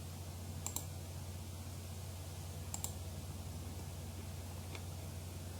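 Two faint sharp computer mouse clicks, roughly two seconds apart, with a third softer tick later, over a steady electrical hum and hiss while a user selects Edit Items in the SCIDIP-ES Preservation Assistant software.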